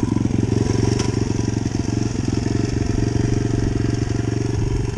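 A hot moped idles steadily up close, its small two-stroke engine putting out a continuous, even putter with a faint rattle and no revving.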